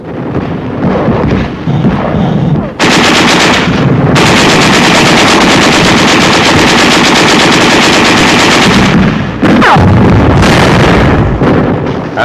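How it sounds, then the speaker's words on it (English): Loud, sustained machine-gun fire from 1945 WWII combat during Patton's Third Army assault toward the Rhine, rattling in dense, nearly unbroken bursts with heavy booming blasts mixed in and brief lulls between volleys. "There is some machine gun fire and occasional shells"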